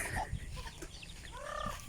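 Chickens cluck nearby in short, irregular bursts, with a louder drawn-out call near the end over a quiet farmyard background.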